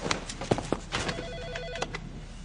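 Brief telephone ring tones amid clattering background noise, fairly faint and muffled, with no one talking.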